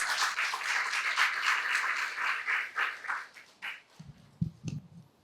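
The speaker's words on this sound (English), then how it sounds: "Round of applause. Round of applause." A small group at a life skills training session gives a round of applause, clapping for about four seconds before it thins out into a few scattered claps and a low voice.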